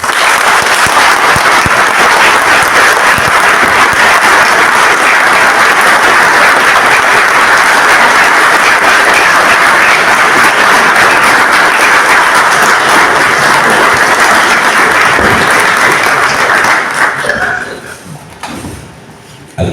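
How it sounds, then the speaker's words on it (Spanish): Standing ovation from the audience at a National Academy of Letters induction ceremony in Durazno, loud sustained clapping for nearly twenty seconds before tapering off abruptly at the end. "Hoy el pueblo de Durazno se pone de pie para agradecer, para homenajear y para aplaudir a uno de sus mejores. Felicitaciones, Óscar Padrón Fabre."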